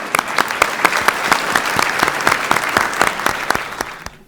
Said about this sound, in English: if we can get a round of applause for each panelist